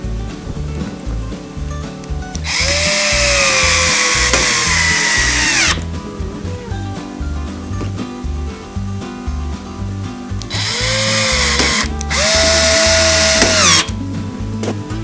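A power drill drives screws to fasten a hinge onto a wooden cabinet door, three loud whirring bursts of a few seconds each, the first long and the last two close together, over soft background music.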